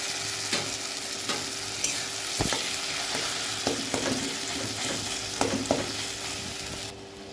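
Masala frying in a kadai on a high flame, with a continuous loud sizzle and sharp scraping stirs of a spoon against the pan at irregular intervals, no voices.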